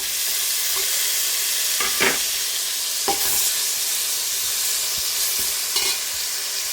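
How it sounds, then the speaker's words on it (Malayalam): Tomato and curry leaves sizzling in a hot pan for a cauliflower gravy, a steady loud fry hiss broken by a few scraping stirs of a spoon, with no voices. "തക്കാളിയും കറിവേപ്പിലയും ഇട്ട് കൊടുക്കാം"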